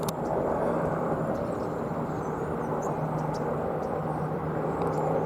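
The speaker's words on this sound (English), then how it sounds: "Approaching helicopter. It's the same one." A distant helicopter whirs in a steady, fairly faint low rumble, holding constant with no voices.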